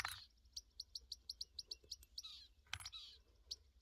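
A small bird chirps in quick, repeated high notes, fairly close and clear against a quiet background, with a few louder trills near the end.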